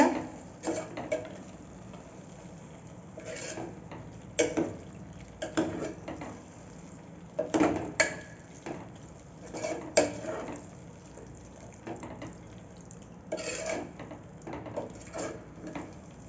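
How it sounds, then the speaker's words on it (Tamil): Mutton being stirred into gravy in a pressure cooker pot, with intermittent clinking and scraping of a spoon against metal in irregular bursts over a faint background, no talk. "இப்போ மட்டனை நல்லா இந்த கிரேவி கூட மிக்ஸ் பண்ணி விட்டுக்கோங்க"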